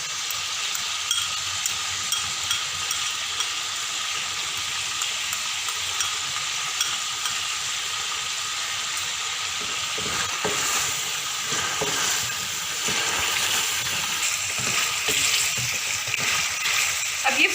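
Boneless chicken karahi sizzles and fries steadily in a pan with black pepper and ketchup, a continuous bright crackle with occasional stirring clatters toward the end, no voices.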